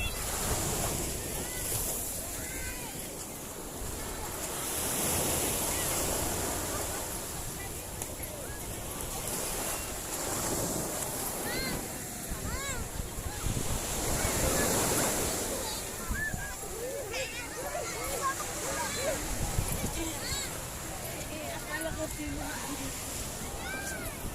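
Waves wash ashore at Bolinao beach in a steady broad roar with surges, mixed with wind buffeting the microphone and faint voices in the background.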